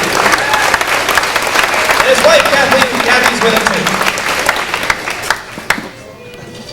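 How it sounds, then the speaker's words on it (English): Audience applause at a 1993 old-time fiddle contest in Govan, Saskatchewan, honoring fiddler Peter Dick, a steady dense roar of clapping that fades near the end while someone speaks over it on the PA. "Big round of applause for Peter."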